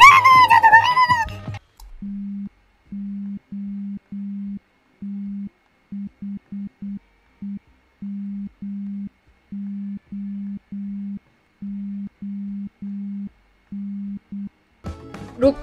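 Repeated short electronic beep tones in a video game, a steady pitched tone pulsing on and off in irregular bursts and short runs for over ten seconds, heard alone between brief voices at the start and end.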